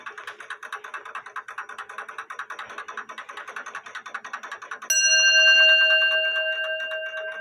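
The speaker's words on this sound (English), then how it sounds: "Nice bell sound." An antique 1830 grandfather clock ticks steadily for several seconds, then its bell strikes once, loud and close, with a clear ringing tone that slowly fades.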